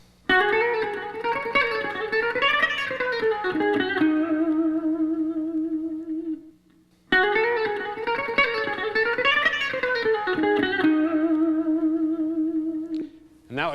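A guitarist plays a fast electric guitar phrase with bright, sustained harmonic notes, heard loud and alone, repeated twice with a short gap between passes and a touch of effects and reverb.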